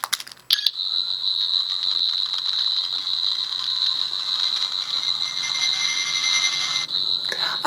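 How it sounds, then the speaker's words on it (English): A 14th Doctor sonic screwdriver toy sounds its fire alarm mode: one continuous, shrill electronic tone that holds steady for about six seconds after a click, then cuts off with another click. "And then 4, it plays kind of an abrasive fire alarm noise"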